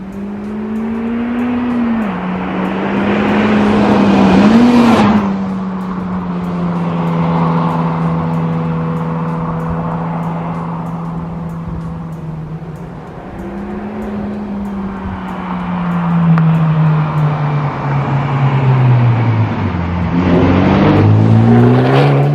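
A Honda Civic Type R with its muffler deleted holds a steady, buzzing exhaust drone around 3,500 rpm. The engine note dips and swells a few times and rises into a revving, climbing tone near the end.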